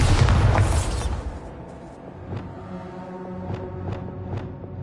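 A Bombarda spell goes off in one loud booming explosion at the start, decaying over about a second into quiet ringing tones and a few faint clicks.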